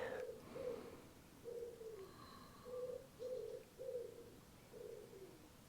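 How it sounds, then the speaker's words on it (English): Pigeons coo outdoors in a soft, repeated pattern of about seven low phrases spaced across the stretch, each rising and falling, with faint distant chirps above and a light background hush. "And the pigeons."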